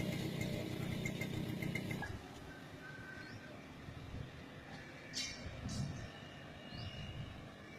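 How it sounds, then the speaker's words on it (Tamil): A loaded goods truck rolls onto the damaged Kathavanai dam bridge in Namakkal district, its low engine rumble steady and louder for the first two seconds, then fainter with brief rattles and clatters. "இப்போ இந்த பாலத்தில் லோடு வண்டி வந்துட்டு இருக்கு"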